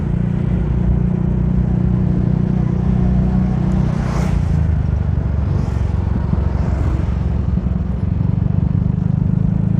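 Steady loud engine roar and wind rumble from riding a motorcycle on the road, continuous throughout, with a couple of brief whooshes of passing traffic.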